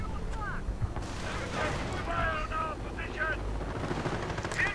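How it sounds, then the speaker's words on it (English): Calliope rocket artillery bombarding in the strategy game Company of Heroes, a rumbling barrage of distant blasts mixed with whistling projectiles and machine-gun chatter, steady and dense throughout. "And the Calliope's bombarding the center once more."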